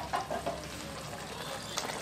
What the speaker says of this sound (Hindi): अब इसको पाँच छः मिनट तेज फ्लेम पे इसको भूनते हुए पका लेंगे।